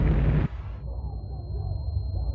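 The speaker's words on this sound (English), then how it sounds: "Reactor 3 is rocked by a hydrogen explosion similar to that in Unit 1" A hydrogen explosion rocks Reactor 3 at a nuclear power plant: a loud, close burst that cuts off abruptly and leaves a low rumbling roar behind it.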